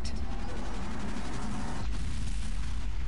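In an Unreal Tournament match, a router is destroyed with a heavy booming blast that rolls into sustained rumbling and crackling explosion noise.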